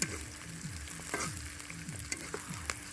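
Chillies frying in a pan for chicken biryani, a steady bright sizzle with rhythmic stirring scrapes recurring across the short stretch.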